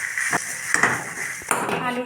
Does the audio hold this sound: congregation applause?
no